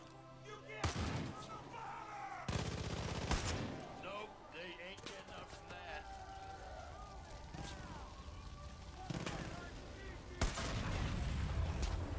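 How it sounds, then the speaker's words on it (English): Heavy gunfire from shotguns in the video game Far Cry 5: loud, sharp blasts land in scattered bursts over a busy combat soundscape, with voices talking beneath the shooting. "Get away, I'm being hit with shotguns."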